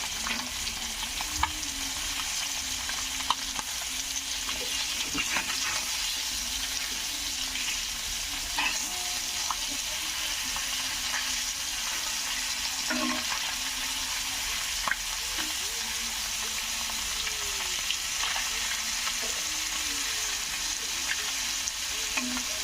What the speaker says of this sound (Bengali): দেখুন মাছটা উল্টায় নিই।